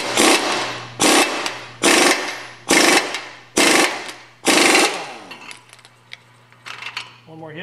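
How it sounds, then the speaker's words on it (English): Six loud, rapid hammering bursts from a 1/2 inch drive impact wrench tightening a transmission nut on a 3-speed gearbox, each burst about half a second long with short pauses between, then quieter tool clinks and a steady low hum. "we torque this to tight with an impact"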